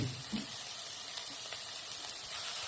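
Chopped onion greens hit a hot pan with turmeric and besan, giving a soft, steady sizzle and crackle with faint stirring scrapes, quiet and close.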